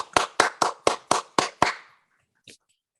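Seven sharp claps sound in a quick even run, like a short round of applause after a poetry reading, then a single faint clap after a pause.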